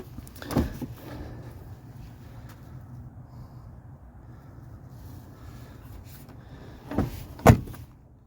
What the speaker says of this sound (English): Watch how good the door shuts.